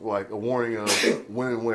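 A quick, breathy sneeze bursts out in the middle of someone talking, with speech resuming right after.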